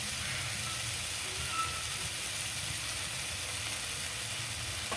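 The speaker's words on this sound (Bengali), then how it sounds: "এই কচু ভাজাটা ভাজতে কিন্তু বেশি জাল দিলে হবে না" Taro (kochu) pieces frying in oil over low heat, giving a steady, soft sizzle that holds evenly throughout without talk.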